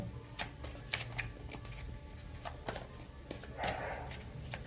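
Tarot cards being shuffled by hand, a run of crisp riffling flutters and soft slaps repeating at close range, with a faint voice now and then.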